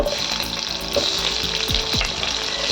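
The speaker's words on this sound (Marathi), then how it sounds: "1 चमच तेल टाकले मी. त्याला तेलात छान तापू देऊया. यात टाकूया 1 छोटा चमच जिरे. छान तळतळू देऊया." Cumin seeds and onion sizzle in hot oil in a pan, a dense continuous crackling fry with a few utensil knocks near the end, close and loud with no voices.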